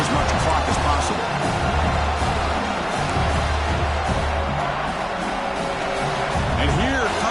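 A stadium crowd roars steadily in the College Football 26 video game, a loud, sustained wash of cheering and noise that swells near the red zone without any clear speech.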